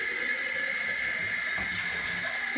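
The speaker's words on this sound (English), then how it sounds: "Tell Pickles not to get water in his ears" Water running steadily from a tap or sprayer while an old dog gets a bath, a continuous hiss with a faint splash partway through.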